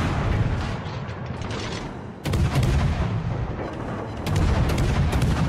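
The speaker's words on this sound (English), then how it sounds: "This Yamato's shooting pretty nice." Heavy battleship gun salvos from the Yamato in World of Warships, loud booming blasts rolling into one another with dense rumbling reverberation, two fresh volleys punching in partway through.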